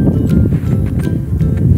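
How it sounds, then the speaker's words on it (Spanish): Footsteps crunch steadily through fresh snow outdoors on an unstable surface, a close, rhythmic series of packed-snow squeaks and thuds recorded alone without talking. "voy a caminar un poquito esperando que se escuche el sonido de mis pisadas"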